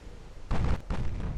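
Torpedoes strike ships in Ultimate Admiral Dreadnoughts with two heavy explosive booms in quick succession, deep and loud, the first stronger than the second.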